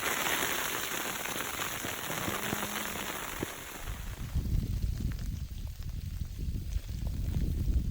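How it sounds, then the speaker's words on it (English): Rain drums steadily on a hiking tent during a long-distance trail trek, a dense close patter that continues throughout, shifting to a heavier, lower-pitched spatter in the second half. "I can feel the rain coming through the tent."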